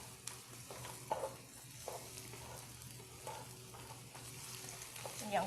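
Onions being stir-fried in a pan, a steady moderate sizzle with intermittent scraping and stirring knocks, close and continuous.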